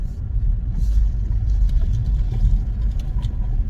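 A 2023 Seat Leon plug-in hybrid pulls away, heard from inside as a low, steady road rumble with faint clonks, close and continuous without talk.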